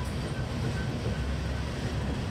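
A CSX freight train with Herzog cars and a gray milk car rolls past nearby, a steady loud low rumble and rail noise throughout with no clear clickety-clack rhythm.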